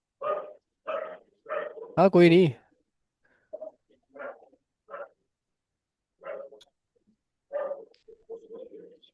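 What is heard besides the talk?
dogs barking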